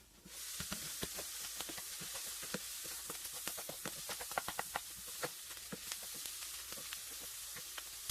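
Onions and garlic sizzle in a one-pot keto chili, a steady close frying hiss broken by frequent sharp crackles and pops.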